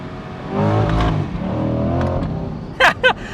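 Chevrolet C8 Corvette engine pulls hard, its tone climbing then dropping through a gear change, followed by two sharp bursts near the end, with a brief voice in between.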